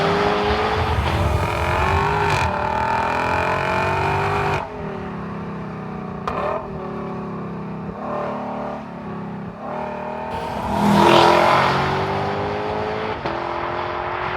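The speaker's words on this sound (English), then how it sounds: "It barks lower down in the rev range, it screams near the red line" A 2021 Lexus LC500 Convertible's V8 engine revs hard and drops back repeatedly, loud and close, its deep roar rising and falling in pitch.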